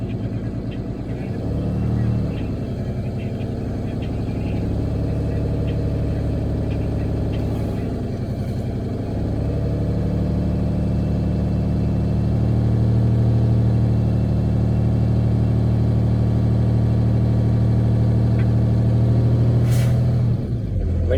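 A truck engine revs steadily at about 1500 rpm to build air brake pressure, a loud sustained low drone that rises in pitch midway, with a sharp hiss of air release near the end.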